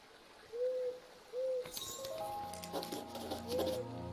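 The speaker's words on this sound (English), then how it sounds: "I think I found the owl Annika spoke of." Two gentle owl hoots in Eastshade open the moment, then a burst of brighter tones and rustling clatter rises over them, with one more faint hoot near the end.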